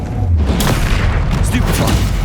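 A Confringo blasting spell explodes in the video game Hogwarts Legacy: a loud, deep boom with rumbling crackle, followed by scattered sharper bursts.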